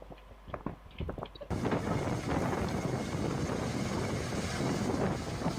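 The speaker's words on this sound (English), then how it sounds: "the wind is that strong they can do that" Strong wind roars into the microphone in a sudden loud, sustained rush after a quieter opening with scattered knocks and rustles.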